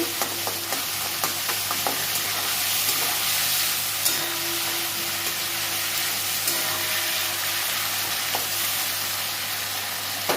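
Mustard paste with green chilli frying in a pan: a dense, steady sizzle up close, with a few faint stirring knocks over about ten seconds.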